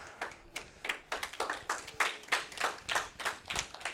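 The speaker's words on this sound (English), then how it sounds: "All right, round of applause." Classroom students clapping in a round of applause, a thin scattered patter of hands with a rough rhythmic pulse, fairly quiet and near, with no talk.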